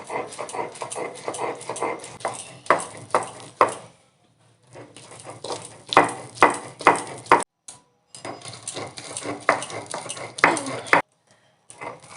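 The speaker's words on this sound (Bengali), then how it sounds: "একটু আস্তে আস্তে করেই বাটতে হবে, নাহলে এটাও ঠিকরে ঠিকরে চলে যাবে এপাশ ওপাশ।" Peas are ground by hand for motorshuti bharta with steady rhythmic grinding and scraping strokes in bursts. They stop for short pauses and then start again, close and moderately loud.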